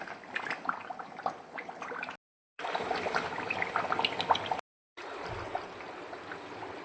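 Coconut oil steeped with herbs such as aloe vera, tulsi, amla, hibiscus and keezharnelli boils hard in a pot, giving a faint, steady bubbling and seething broken by two short gaps of silence.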